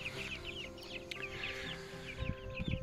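Chickens, including meat broilers, cluck repeatedly inside a small mobile coop, close and moderately loud, with rustling and scratching underneath.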